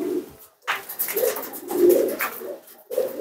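Contest-bred pigeons coo in repeated low throaty phrases at close range, several calls separated by short pauses, with no talking over them.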